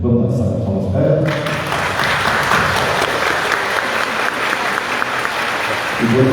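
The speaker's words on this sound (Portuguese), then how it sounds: "Vamos dar salva de palmas para ela?" A church congregation at Sunday Mass breaks into sustained applause after a baptism, a loud, dense clapping that begins abruptly after a brief spoken line and fills the space for several seconds.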